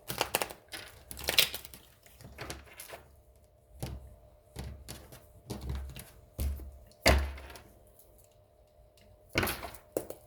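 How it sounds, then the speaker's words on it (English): A tarot deck being shuffled by hand close up, in a series of brisk papery riffles and taps broken by short pauses, with no talking. "one more shuffle."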